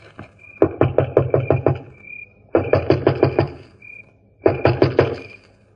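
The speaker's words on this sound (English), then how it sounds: "I'll go knock on the door." Knuckles rap on a door as a radio drama sound effect, three separate bursts of about five to six sharp, evenly spaced knocks each, loud and close, with no voices.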